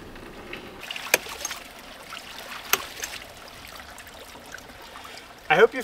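A ram pump runs outdoors beside flowing water, with a continuous low trickle broken by two sharp knocks from the pump's valve and a louder splash at the end.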